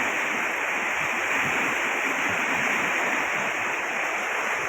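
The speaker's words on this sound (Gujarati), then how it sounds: "નદી ફૂલ જોશમાં છે" A river running in full monsoon flood beside an old temple, a steady, dense rushing roar of fast water that holds constant throughout with no voices.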